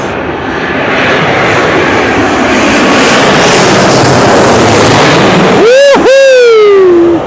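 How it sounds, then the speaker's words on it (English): Qatar Airways airliner from Doha roars past, a loud broad jet rumble swelling and peaking with a whining engine tone that sweeps down as it goes by, close overhead, with faint voices under it. "We have a Qatar Airways."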